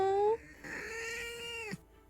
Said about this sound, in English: She just meowed right into the mic.